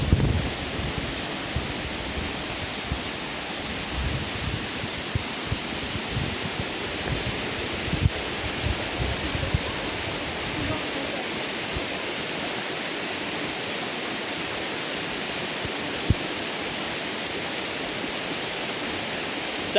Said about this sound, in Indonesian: Ca, lewat sungai aja, Ca.